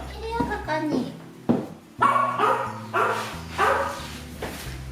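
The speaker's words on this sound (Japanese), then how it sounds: "姿が見えなくなるとワンワンと吠えて呼びつけてくる" A pet dog in a rural Japanese house barking to call its owner: a string of loud, close barks and yips in uneven bursts, with whiny tones between them.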